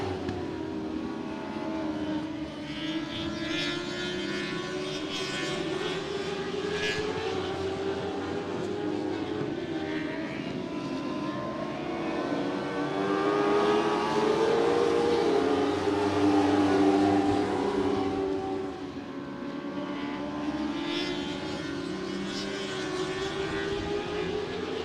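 Late model race cars racing at Willamette Speedway, a steady droning engine roar that swells louder midway as cars pass close, then settles into a sustained distant hum, with no clear voices.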